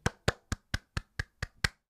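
Eight crisp hand claps in a steady, even rhythm, close and fairly quiet, from a single person with no voices around.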